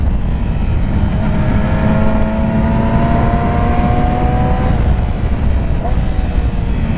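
A sport motorcycle engine runs loud and close while riding, its whine sliding down in pitch through downshifts before settling, with wind rush underneath.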